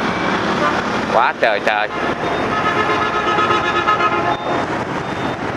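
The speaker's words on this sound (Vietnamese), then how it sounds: "Đường xá thì xe cộ nhiều, tiếng còi xe, tiếng động cơ" Busy road traffic in Saigon rumbles on continuously, engines droning with a short burst of car horn tooting near the middle, while a person talks over the street noise.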